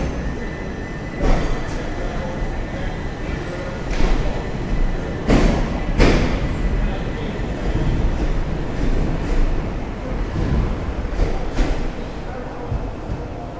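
A train pulls into a Portsmouth-area station platform on a GWR, SWR or Southern line, its steady rumble and a few heavy thuds filling the clip while station announcements and voices carry over the top.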